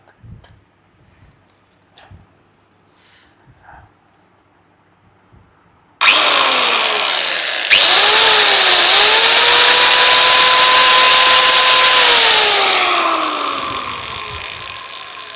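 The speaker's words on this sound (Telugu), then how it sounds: "లాస్ట్ అండ్ ఫైనల్ మిషన్ ఇది కటింగ్ మిషను హెవీ మిషను" A heavy electric cutting machine from a new tool kit starts after a few quiet clicks and runs loud and steady for several seconds with a whining motor tone, then begins to wind down near the end.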